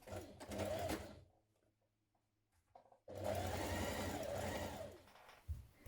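Sewing machine stitching a shirt's forward shoulder seam at the yoke: a steady close motor whir with rapid needle chatter runs for a second, stops for a quiet pause with small handling sounds, then resumes in a longer continuous burst.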